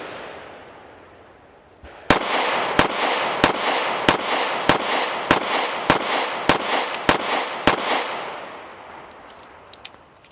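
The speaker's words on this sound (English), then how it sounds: "Still a great shooting little gun." Rapid, evenly spaced gunshots from a S&W CSX Micro 9 pistol, about ten loud, close reports in a steady rhythm, each with a short echoing tail.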